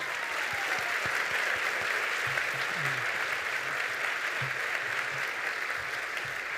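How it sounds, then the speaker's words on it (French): A university graduation audience applauds the academic procession, steady dense clapping that fills the whole stretch at an even level, with a low murmur of the crowd underneath. "joignez-vous maintenant à moi pour applaudir chaleureusement notre cortège universitaire"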